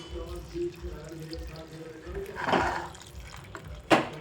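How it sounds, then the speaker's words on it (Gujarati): Water poured from a cup into a pan of simmering val bean curry in two short splashing bursts over a low background hum, with a voice speaking softly in places. "મેં આ એક કપ પાણી લઈ લીધું છે ને થોડું થોડું કરીને હું નાખતી આવીશ"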